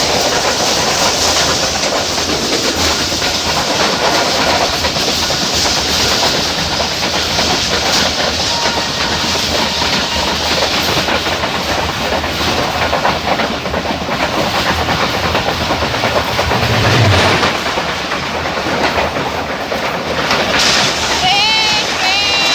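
A passenger train in Pakistan travels from Peshawar to Karachi, its loud, continuous rumble and rattle filling the space with a steady hiss while people talk inside the carriage.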